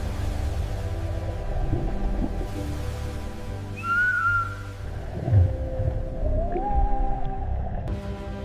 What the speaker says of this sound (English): The orca pod communicates through a complex series of clicks and whistles